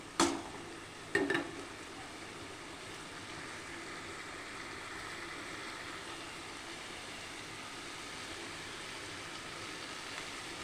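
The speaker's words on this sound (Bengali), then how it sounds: "এটা দিয়েও ভালো করে নাড়াচাড়া করে নেব, তাহলে চিংড়ি মাছের মধ্যে সমস্ত মশলা নুন হলুদ সমস্ত ঢুকবে" Shrimp frying with salt, turmeric and spices in a pan, a quiet steady sizzle opening with two sharp clanks of a spoon against the pan, then continuing softly without voices.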